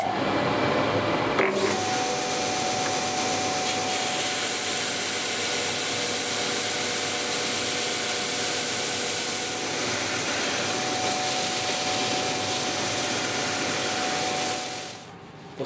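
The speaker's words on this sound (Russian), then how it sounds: "далее я шлифую доску на барабанном шлифовальном станке" A drum sander sands an end-grain wooden butterfly cutting board with a steady, loud, close whirring grind that runs unbroken for most of the stretch before winding down, with no voices.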